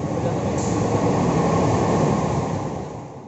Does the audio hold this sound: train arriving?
yes